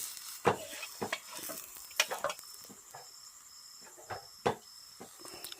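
Oil sizzles in a pan on a home stove, a quiet continuous hiss broken by several sharp, irregular clinks and scrapes of a utensil, with no talking.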